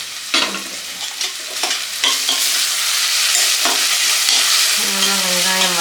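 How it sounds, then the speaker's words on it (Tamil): Onions fry loudly in a pan with a dense, continuous sizzle, punctuated by repeated scraping and clattering stir strokes, close up and with no voices. "நல்லா வெங்காயம் வதங்கட்டும்."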